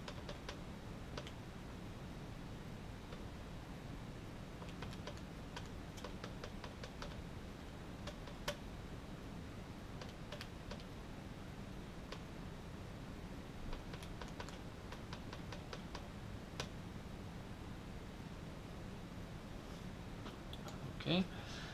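Keys tapped on a computer keyboard while entering numbers into a calculation, a run of soft separate clicks scattered through the stretch over a steady low background hum, with someone speaking in places.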